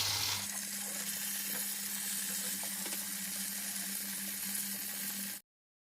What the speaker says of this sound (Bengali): এদিকে বেগুন ভাজা হচ্ছে